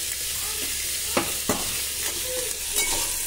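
Masala spices frying in oil in a pan while cooking a mixed vegetable dish, a steady broad sizzle throughout with a few sharp clinks of a spoon against the pan, no talking.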